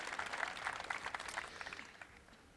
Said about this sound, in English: If we could all give her a round of applause for organizing everything today.